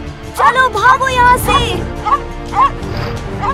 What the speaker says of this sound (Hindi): अरे ये यहाँ का कुत्ता है